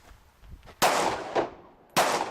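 Handgun shots fired at a target on a shooting range during a concealed carry qualification course, three sharp loud cracks with short ringing decay, irregularly spaced and close.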